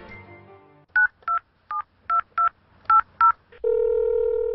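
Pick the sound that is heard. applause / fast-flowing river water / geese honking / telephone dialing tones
telephone dialing tones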